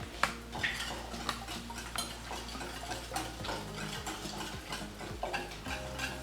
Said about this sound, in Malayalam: നമുക്ക് ഈ ബട്ടർ ഒരു വിസ്ക് ഉപയോഗിച്ചോ അല്ലെങ്കിൽ സ്പൂൺ ഉപയോഗിച്ചോ നന്നായിട്ട് ബീറ്റ് ചെയ്തെടുക്കാം